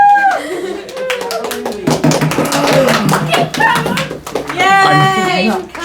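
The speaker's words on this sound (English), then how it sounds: "I'm sure they're applauding you, Josh" Clapping breaks out during a Gospel-day church broadcast. Claps of varied loudness mix with children's voices and cheerful voices and laughter, and the sound stays busy and close for several seconds.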